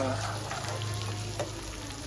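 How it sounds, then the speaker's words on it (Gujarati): Mustard seeds and cumin tempering in hot oil give a quiet, steady sizzle with light crackles, fairly soft and continuous. "રાઈ જીરું વઘારમાં કરી નાખી દીધું"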